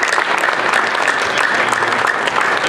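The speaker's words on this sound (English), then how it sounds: "Let's give the young people another round of applause." At a 100th anniversary event for the Akron water treatment facility, the audience gives young presenters steady, dense applause that carries on without a break.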